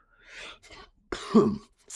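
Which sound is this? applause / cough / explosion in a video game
cough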